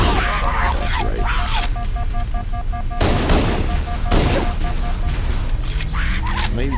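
Loud grenade explosions in the Halo: Combat Evolved Anniversary video game, several heavy booming blasts in a row, mixed with gunfire, tonal game effects and other battle sounds.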